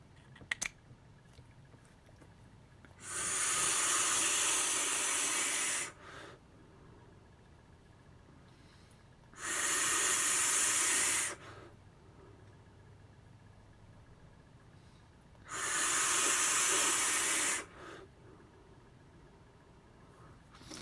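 Vaping on a Geekvape Tsunami RDA with a stainless square build, bottom airflow and a fairly thin juice: three long, steady airy hisses of a few seconds each, close up, with quiet gaps between pulls.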